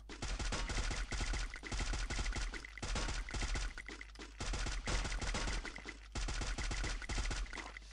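Gunfire in the battle-royale video game Free Fire: repeated bursts of rapid shots separated by short pauses, fairly loud and close, with no talk over them.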